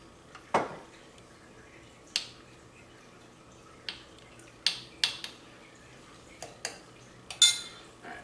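Salad ingredients for an air-fried "chicken" salad are stirred in a bowl: a string of sharp, separate utensil clinks and taps at irregular intervals over a quiet background, with no talking.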